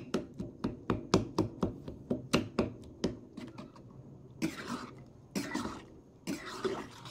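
Mulberries being mashed with sugar in a pot, heard as a quick run of wet, squelching thumps, steady at first, then scattered, with louder splashy scraping bursts toward the end.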